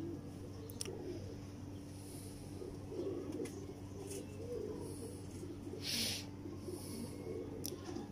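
A Teddy pigeon coos softly in low, droning tones, faint and fairly close, with a few brief higher chirps and rustles over a quiet background.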